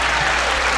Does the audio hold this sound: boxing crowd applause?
yes